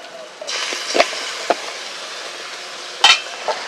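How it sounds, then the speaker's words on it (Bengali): Spice masala with yogurt and Kashmiri chilli powder frying in a pan for Sundarbans crab curry, a close sizzle that starts abruptly, punctuated by several sharp spatula scrapes and clinks against the pan. "এবার ভালো করে আমি মশলাটা কষিয়ে নেব"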